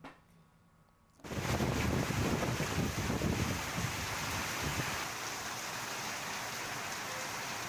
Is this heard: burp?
no